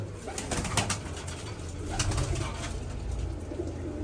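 Flying pigeons kept for pigeon-racing contests coo softly and repeatedly nearby over a steady low outdoor hum, with no one speaking.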